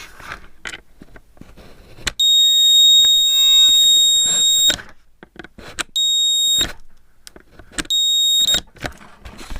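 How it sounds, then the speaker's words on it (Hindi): A homemade satellite signal finder built from a set-top box emits loud, shrill electronic beeps, one long sustained tone followed by two shorter ones, close up amid scattered clicks and handling noises. "ये देखिए जैसे मैं कनेक्ट करूँगा बिल्कुल यहाँ पर बीप आने लगेगी।"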